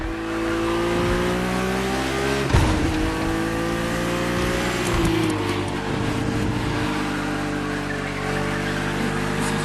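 A BMW race car in a racing video game drives a racetrack, its engine a steady, loud roar that climbs and shifts pitch, with one sharp burst partway through and no voices.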